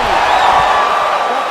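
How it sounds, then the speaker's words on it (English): A crowd roars and cheers in the UFC 5 video game after a fight-ending shot, a loud sustained swell of voices carrying through the arena. "crowd loving it"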